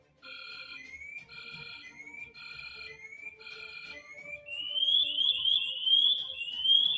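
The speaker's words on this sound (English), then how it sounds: "remain motionless so that the onboard motion sensor can go through the 3 stages of pre-alarm and then into full alarm" LUNAR onboard motion sensor alarm from a wearable safety device, stepping through repeated pre-alarm beep bursts and then rising into a continuous warbling full alarm, clear and alone.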